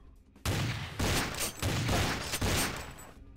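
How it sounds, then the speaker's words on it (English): Bursts of rapid gunfire from a firefight in Vampire: The Masquerade – The Final Nights, several loud volleys in close succession with brief gaps between them. "These guys shoot at us."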